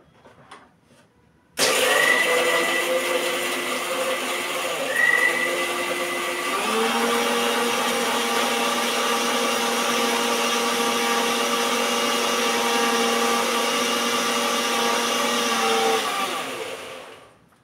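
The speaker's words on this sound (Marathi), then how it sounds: "हे शेंगदाणे आणि कांदा जे आहे ते मी मिक्सरमध्ये वाटून घेते" A kitchen mixer grinder whirs loudly as it grinds peanuts and onion into a paste, starting abruptly, running steadily for about fifteen seconds with a slight pitch drop as the load changes, then winding down.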